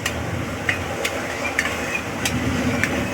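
Spices are stirred together with water in a wok for mutton rezala, giving soft wet scraping and a faint sizzle under repeated light clinks of the spoon against the pan, close and steady with no talking.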